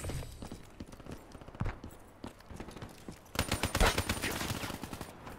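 Gunfire in Call of Duty: Black Ops III, sparse shots early giving way to a dense burst of rapid automatic fire in the second half, fairly close and loud against game background noise.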